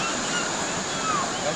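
A person wades into cold creek water at Fires Creek, with a steady, close rushing wash of water and a breezy hiss throughout and no distinct splashes standing out.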